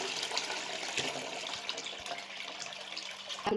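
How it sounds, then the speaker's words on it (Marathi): Water poured into a cooking pot on a lit gas stove while making mutton dum biryani, a continuous close splashing and trickling stream with no talk. "पाणी ओतून घेते आता"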